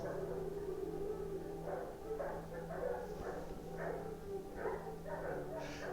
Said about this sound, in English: I have German Shepherd dogs, and some of them are right outside that window, and they were howling.